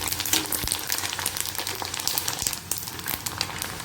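Pasta pieces deep-frying in hot oil, a continuous crackling sizzle with scattered sharper pops and the occasional stir, steady and moderately quiet with no talk.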